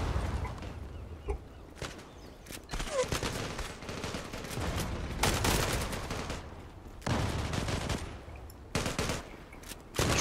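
Video game gunfire in a Turkish street shooter set in Üsküdar, with repeated bursts of automatic fire and volleys crackling across the clip, loud and close, broken by brief lulls.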